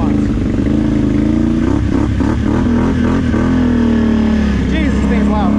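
A loud 850 ATV four-wheeler engine roars close by, revving in several quick throttle blips over a constant heavy drone, with a voice partly mixed in.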